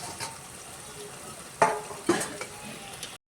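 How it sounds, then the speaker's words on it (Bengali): Fried eggplant in a pan hisses as a small amount of water is poured in, giving two short, loud sizzling bursts over a low background crackle, followed by a brief cutoff. "বেগুনটা ভালো করে ভাজা হয়ে গেছে এখন জল দিয়ে দিচ্ছি"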